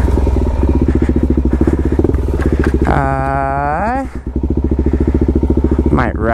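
A Suzuki DR-Z400S dirt bike runs steadily across muddy, wet, rocky terrain, its engine close and loud and revving up in a sweeping rise midway, with a rider talking over the motor.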